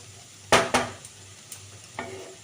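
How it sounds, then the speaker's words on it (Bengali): Vegetables and capsicum stir-fry uncovered in a pan: a couple of sharp scraping stirs, then quieter clinks and a soft sizzle in the background. "আর একটু ভাজা ভাজা করে নিচ্ছি ক্যাপসিকামটাও এর সাথে ভেজে নিলাম"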